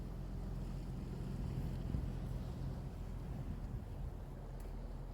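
A boat passes on the sea at night, heard as a faint low rumble under wind noise and soft lapping waves, steady and distant throughout.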